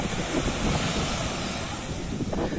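Waves wash in at Samudra Indah beach near Singkawang, West Kalimantan, a steady close surf roar mixed with buffeting wind noise on the microphone, no voices.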